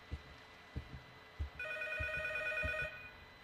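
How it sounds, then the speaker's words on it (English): A telephone rings in the horror game P.T., a short burst of trilling electronic bell tones that follows several soft, dull thuds, heard alone without speech. "There's the phone."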